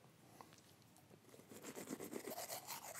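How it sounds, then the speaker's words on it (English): Teeth brushed with a toothbrush loaded with coconut charcoal powder: quiet at first, then close, rapid back-and-forth scrubbing grows louder and continues steadily through the second half, with no talking. "and then you brush with it."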